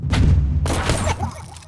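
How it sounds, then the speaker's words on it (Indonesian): Two loud, close gunshots from the video game Gumslinger fire in quick succession, the second about half a second after the first, each a sharp broadband blast with a booming low tail. "Dua kali tembakan ya"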